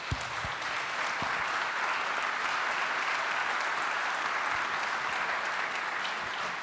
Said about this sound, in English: Please join me in a very warm round of applause for our three panelists.